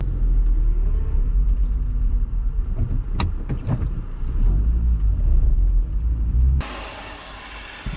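A car drives along the road during a beach run in Skegness, a continuous low rumble with a few brief clicks midway, before the sound cuts abruptly to a thinner hiss near the end.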